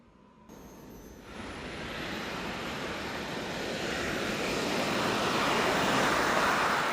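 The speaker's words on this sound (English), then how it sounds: "And it sounds just like a real jet plane." A large RC jet plane takes off from a runway, its turbine spooling up into a loud, steady roar that swells as it accelerates, with no talk over it.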